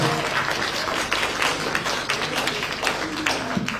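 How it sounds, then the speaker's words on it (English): Members of the media and guests applaud Michelle Yeoh at a press conference in Malaysia: a sustained round of many hands clapping, moderately loud, with scattered sharper claps standing out from the crowd. "Let's give another big round of applause."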